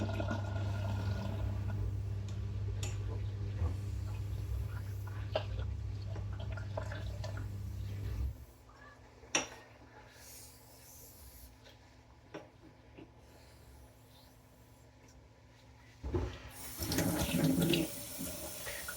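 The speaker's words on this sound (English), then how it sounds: "Wiping off a good bit of slurry now and checking just with water how it is." Running water rinses slurry off a Japanese natural whetstone during straight razor honing, a steady tap-like stream for the first half, then quieter drips and splashes with a short burst of water near the end.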